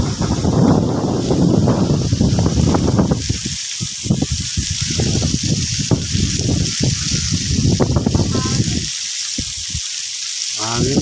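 Gusty wind roars against the microphone, hissing and rumbling steadily while someone talks intermittently over it.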